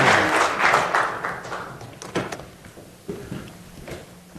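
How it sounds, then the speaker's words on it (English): Scattered clapping from a small audience at a biotech investor day, loudest at the start and thinning into a few sporadic claps and soft room noise. "Maybe a round of applause for these great people."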